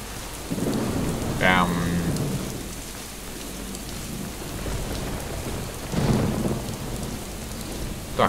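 Thunder rumbles and rain pours in a stormy scene from the video game Vivisector: Beast Inside, with steady rainfall throughout and a couple of rolling thunder swells rising above it.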